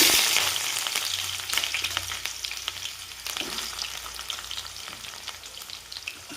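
Onions frying in oil in a kadhai with mustard seeds, a dense continuous sizzle with crackling pops and occasional stirring scrapes, close and steady throughout.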